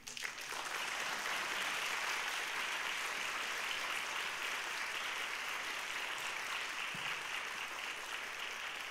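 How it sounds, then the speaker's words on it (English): Steady audience applause fills a room at an immigrant integration summit after a welcome speech, a dense even roar of clapping that holds at constant loudness throughout. "How about another round of applause for Sarahi and for Diego?"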